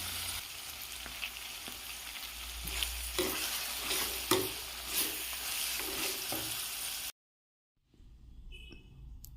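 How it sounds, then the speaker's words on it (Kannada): Grated coconut, tamarind and jaggery fry together in a pan, a busy sizzle with frequent spatula scrapes and knocks that stops abruptly, followed by quieter clinks. "ತೆಂಗಿನ ತುರಿ, ಹುಣಸೆ ಹುಳಿ, ಬೆಲ್ಲ ಇವಿಷ್ಟನ್ನು ಹಾಕಿ ಒಟ್ಟಿಗೆ ಫ್ರೈ ಮಾಡ್ತೇನೆ"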